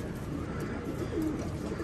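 Pigeons kept in a breeding cage give soft, low cooing calls against a constant background murmur, with no voices.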